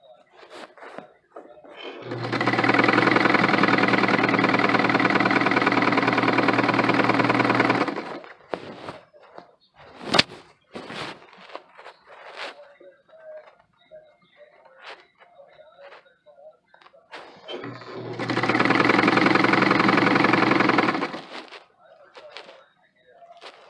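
A sewing machine runs a narrow 1/8 inch seam in two sustained bursts of rapid stitching, close and steady, with quiet handling noises and taps between the runs.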